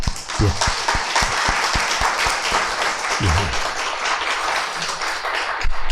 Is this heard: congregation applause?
yes